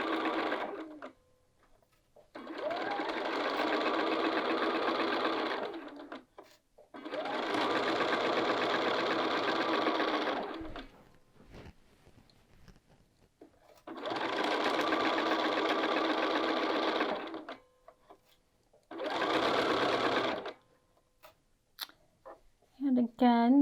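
Sewing machine stitching across gathered fabric, running in four steady bursts of a few seconds each with quiet pauses between, close and fairly loud.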